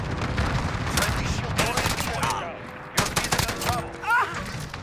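Rapid gunshots from a rifle in the Modern Warfare video game, sharp close bursts in two clusters with brief pauses between, plus faint game effects.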